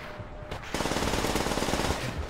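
Rapid automatic PPSh-41 submachine gun fire in Call of Duty: World at War, a short burst of evenly spaced shots that starts abruptly and runs to the end, loud and unbroken.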